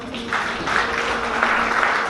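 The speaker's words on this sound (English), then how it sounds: "clap for" A short burst of applause for an award recipient walking up to collect her prize at an awards evening, clapping swelling under a faint tonal backing.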